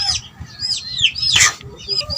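Gamecock chickens cluck close by in a series of sharp, repeated calls, with one louder burst partway through and soft rustling underneath.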